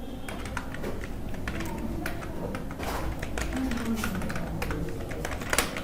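Computer keyboard typing while entering a narration in Tally Prime accounting software, a steady run of close, dense key clicks lasting the whole stretch with no talk over it.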